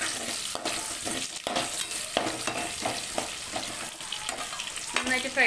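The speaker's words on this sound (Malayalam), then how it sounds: "ഇത് നമുക്ക് നന്നായിട്ട് ഫ്രൈ ചെയ്തെടുക്കാം." Garlic, green chilli and long-cut ginger fry in hot oil for chilli chicken, producing a steady close sizzle with repeated scraping stirs throughout.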